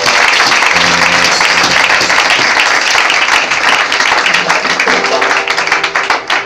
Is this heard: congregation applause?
yes